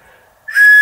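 A strawberry-flavoured lollipop whistle is blown close by: a quiet tone first, then a loud, sustained shrill blast to the end, with no voices.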